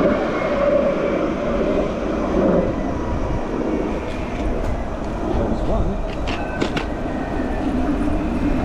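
Two trams rumble past close by on Boulevard Raspail in Paris, a steady low roar with some metallic squeals and clicks toward the end.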